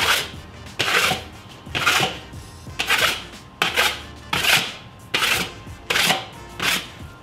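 A drywall knife lightly skims fresh drywall texture on a repair patch, giving a series of about nine close, rhythmic scraping strokes with brief pauses between them.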